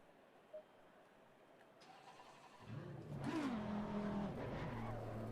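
Audi R8 GT3 race car engine in the Assetto Corsa Competizione sim, starting from quiet and rising into a loud, revving tone with a sliding pitch that settles into a steady drone.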